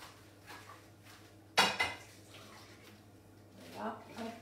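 A metal saucepan clanks sharply once or twice on a stovetop while a chocolate cream cooks, close by, with faint kitchen clatter and a voice murmuring in the background.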